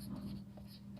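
Writing on a board during a math lesson, a faint, steady scratching stroke against a low background hum, continuous for about a second.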